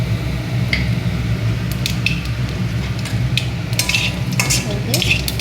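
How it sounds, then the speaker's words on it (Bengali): Black cumin seeds tempering in hot oil for a Bengali hilsa fish curry, giving a steady close sizzle with stirring scrapes and a few sharp utensil clinks throughout. "কালো জিরে ফোড়ন দিলাম"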